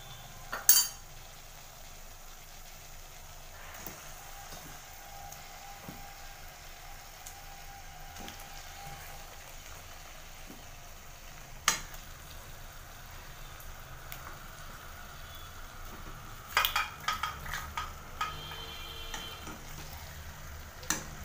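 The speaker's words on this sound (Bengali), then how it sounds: "এরপর আমি আস্তে আস্তে এর মধ্যে মাংসগুলো দিয়ে দেবো" Meat, lowered into a pan of cooked-down spice masala for a Sunday special, sizzles softly at a steady, quiet hiss, with occasional utensil clinks and a short burst of scraping and stirring near the end.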